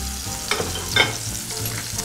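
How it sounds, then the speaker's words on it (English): Sage leaves frying in oil, a steady close sizzle and crackle with a few brief louder pops. "I'm going to go ahead and fry just a little bit more sage."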